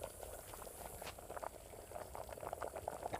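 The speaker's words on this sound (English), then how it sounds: "It's boiling nicely." Chicken curry boils in a pot with a faint, steady bubbling and popping that patters on throughout, heard alone without talk.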